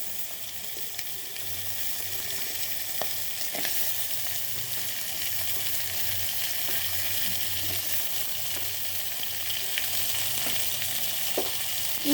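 Dal frying in a pan, with a constant crackling sizzle close up and occasional light stirring clicks and taps throughout.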